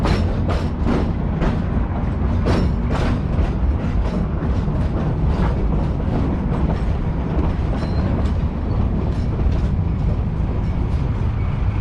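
A Georgetown Loop Railroad train in Georgetown, Colorado, moves along the track with a loud, steady rumble and a rhythmic clickety-clack of wheels over rail joints, without any talk.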